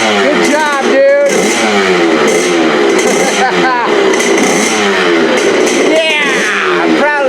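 Kawasaki KX65 dirt bike engine running after a top-end rebuild, a close, loud two-stroke buzz with repeated sharp revs rising and falling in bursts, voices heard briefly over it.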